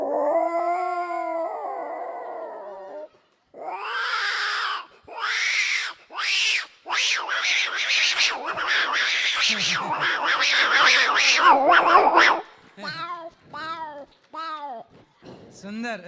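A man imitates two cats fighting, voicing yowls, growls and rising screeches, then ending in a run of short, sharp meow-like cries, all loud and close.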